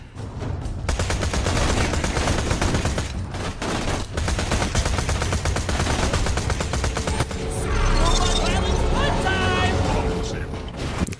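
Rapid, sustained gunfire from a Borderlands 2 firefight, dense bursts of automatic shots rolling almost without pause, loud and close, with heavier blasts and mechanical clatter layered in toward the end.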